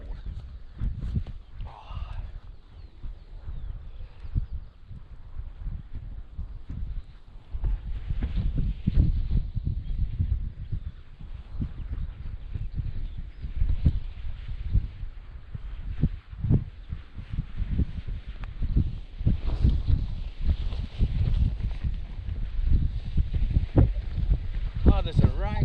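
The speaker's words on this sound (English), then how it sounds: "Oh, there's a right wind come up." A cold wind gusts across an open hillside on a walk around Ingleborough in the Yorkshire Dales. It makes a steady, heavy buffeting roar right against the microphone, with the low rumble rising and falling throughout.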